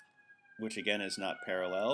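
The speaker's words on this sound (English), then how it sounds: "Sorry for the sirens going by." Emergency vehicle sirens wail faintly in the distance as they pass by, a steady tone running beneath a man's nearby speech.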